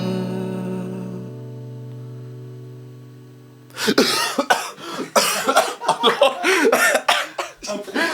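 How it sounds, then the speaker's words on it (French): A steady tone fades out, then a burst of repeated harsh coughing follows, close and loud, in rapid fits. "ça faisait 1 minute que je voulais tousser"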